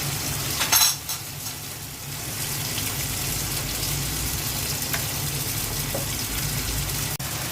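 Rohu fish heads going into mung dal cooking in a pan, a dense continuous sizzling hiss with a brief louder splash near the start and a faint clink later, close and steady with no speech.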